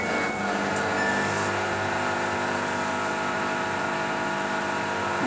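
Samsung WF80F5E0W4W washing machine spinning at a full 1400 RPM on an outdoor care cycle, a steady loud whir and hum holding constant throughout with no voices.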